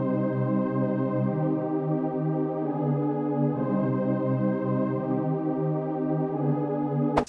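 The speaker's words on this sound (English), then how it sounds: "It's called a classic simple pad" An Alchemy synth's classic simple pad plays sustained, soft, harmonically rich chords that shift smoothly from one to the next, alone with no voices.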